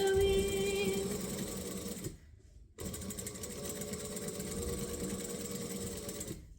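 A sewing machine stitching in the ditch on an apron, a close steady mechanical whir that stops briefly for a moment of near silence, then resumes at an even pace.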